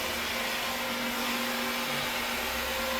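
A low moisture carpet cleaning machine runs with rotating brushes sweeping cleaning compound off carpet, giving a steady motor drone with a sustained tonal hum, moderately loud and continuous, no talking.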